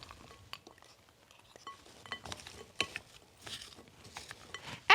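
Apples and frozen blueberries stirred in a large bowl, giving soft scattered clinks and scrapes of a utensil against the bowl, quiet and close, with a sharper clatter right at the end.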